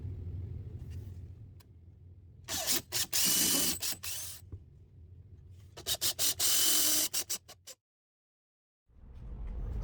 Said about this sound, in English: to do that, I'm going to use some glazing points and a large flat tip screwdriver